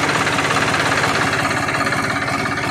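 A Farmtrac 60 tractor diesel idles with a turbo fitted, giving a steady, loud, close-up rumble with a constant knocking pulse and a faint high whistle over it, with no talk.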